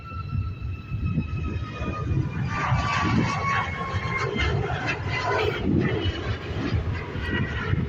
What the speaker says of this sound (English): We've got this 737 MAX FR6325 heading over to Milan.